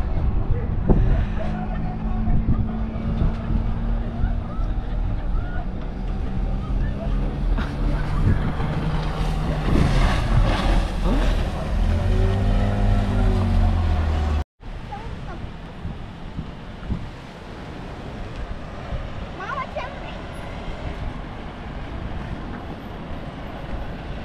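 Bus ride heard from inside on Martinique heading toward Fort-de-France, a steady broadband rumble of engine and road noise with low tonal drone, briefly cut off midway then resuming, with faint voices in the background.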